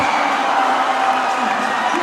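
A basketball arena crowd in a Pampanga versus Zambales game, back on its feet with a loud, steady roar of cheering and scattered whoops, with a commentator talking over it.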